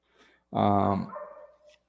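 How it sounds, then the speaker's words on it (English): A pet dog named Faith gives a single short, close whimpering yelp with a tonal, whiny quality, set between faint quieter sounds. "I'm going to relax my dog, Faith."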